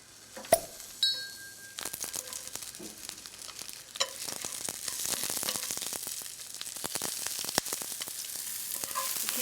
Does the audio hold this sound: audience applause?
no